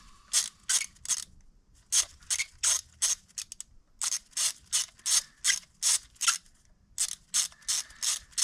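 A ratchet wrench on a long extension cranks out a spark plug from the 2.0L engine of a 2013-2015 Land Rover LR2. The clicking comes in quick, rhythmic bursts of several strokes with brief pauses between them, close and crisp, with no talk.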